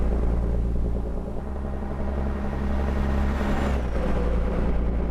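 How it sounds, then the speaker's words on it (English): Continuous rumbling road noise from a heavy truck's tires rolling along in American Truck Simulator, hauling a walking floor trailer of wood chips, steady and loud with a low engine drone. "That tire sound is so good."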